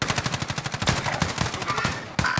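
Rapid automatic gunfire in Call of Duty Warzone during the Haunting of Verdansk zombie event: loud, close bursts of evenly spaced shots in a fast steady rhythm, with a brief pause before firing resumes.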